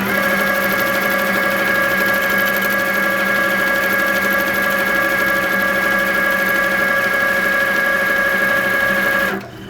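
An HQ Sweet Sixteen quilting machine stitches in a loud, steady, continuous mechanical drone with a fast even rhythm. It runs unbroken for nearly ten seconds and then stops abruptly.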